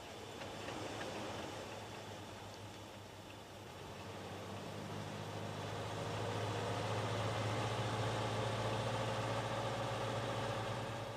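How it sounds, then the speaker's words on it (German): A 1964 Fiat 1500 engine idles steadily in cold winter conditions, a continuous low drone that swells slightly louder and fuller partway through, with no voices. "dann starten. Der Fiat 1500 kommt bereits nach 8 Sekunden."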